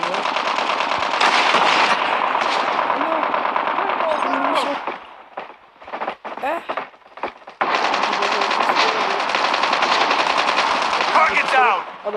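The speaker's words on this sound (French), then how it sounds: "Oh, ça tire plusieurs balles." Rapid automatic gunfire from the mobile shooter game Call of Duty Mobile, dense sustained bursts filling most of the clip with a brief lull in the middle, loud and close, with game voice lines and talk mixed in.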